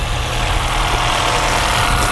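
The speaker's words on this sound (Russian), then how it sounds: "По работе двигателя никаких нареканий нету." Engine of a used Japanese car at a car market runs at a steady idle, a dense continuous rumble heard close up with no talk.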